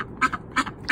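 Ducks kept together with chickens give three short, close quacks in quick succession, loud and clear with nothing else around them.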